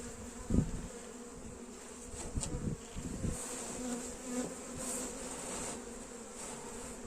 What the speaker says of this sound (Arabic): احاول ان انا بقى ننزل النحل بهدوء الاول